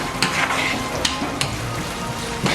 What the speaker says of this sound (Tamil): இதை மிக்ஸ் பண்ணி போட்டு இது நல்லா கோல்டன் ப்ரௌன் வரையும் பொரிச்செடுப்போம்